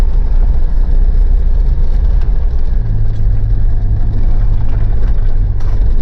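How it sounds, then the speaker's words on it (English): A Mitsubishi Pajero engine droning steadily and loudly while the vehicle drives on a track, a constant rumble with wind and road noise and a low tone settling in partway through, with no talking. "That's how the Pajero should be driven."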